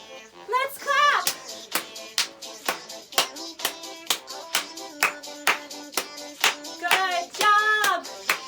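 Hands clap in a steady, even rhythm along with a children's dance song, the claps sharp and close over singing and music.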